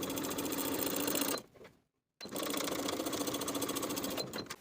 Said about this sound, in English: we'll edge stitch along the bottom folded edge so that as we sew, we're also catching the opposite folded edge